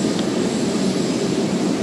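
A jet aircraft at an airport during the departure of Pope Francis from Indonesia gives a loud, steady broadband roar that stays constant throughout, with no talk over it.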